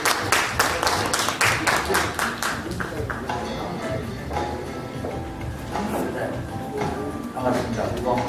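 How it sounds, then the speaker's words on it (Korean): An audience in an auditorium at a 20th anniversary award ceremony applauds to welcome the association chairman, with brisk rhythmic clapping at the start that thins into a murmuring hall with voices. "엄영수 회장님을 큰 박수로 좀 모셔주시면 감사하겠습니다"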